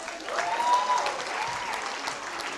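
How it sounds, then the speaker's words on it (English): Graduates and guests at a university convocation ceremony clap in a moderate, continuous patter, slightly distant, with a brief whistle-like tone near the start. "come on guys, clap here."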